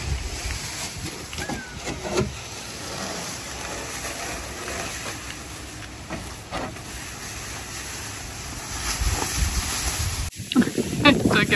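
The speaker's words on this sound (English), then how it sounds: "We're in a literal wind tunnel." Strong wind gusting outdoors while a vintage Viscount caravan is being painted, a steady roar of buffeting microphone wind noise with louder gusts near the end and faint voices beneath.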